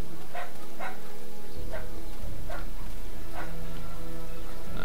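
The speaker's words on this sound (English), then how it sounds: "I hear doggy." A dog barks repeatedly in the fantasy role-playing game Darkness over Daggerford, five or six short evenly spaced barks over a steady ambient background hum.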